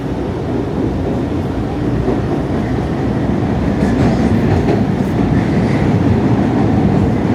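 An MBTA subway train on the Boston T's Red Line between Central and Harvard, a loud steady rumble with rhythmic clickety-clack of wheels on track heard from inside the car, growing slightly louder.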